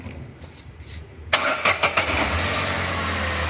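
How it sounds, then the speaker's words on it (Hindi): A Renault Kwid engine, just back together after a cylinder head removal for a misfire, cranks and catches abruptly, then settles into a steady, even idle close by with no other sounds. "करेंगे स्टार्ट करना जरा प्रदीप, स्टार्ट करो जरा।"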